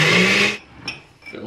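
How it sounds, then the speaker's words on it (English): Kitchen blender whirring loudly through cucumber juice with lime and basil for about half a second before cutting off, followed by faint clicks and quiet handling. "Just put that on our blender and blend this up."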